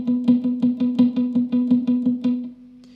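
Muted sixteenth-note funk guitar strumming, a steady run of percussive, choked strokes with a sustained tone beneath, close and alone, stopping before a brief quieter tail.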